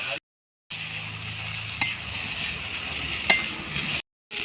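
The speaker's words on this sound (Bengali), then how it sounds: "আলু আর এঁচোড়ের সাথে ভালো করে কষে নেব মশলাটা।" Spices sizzle steadily while being stirred with potato and jackfruit for jackfruit chops, a close, even frying hiss with scraping strokes and brief gaps of silence at the start and end.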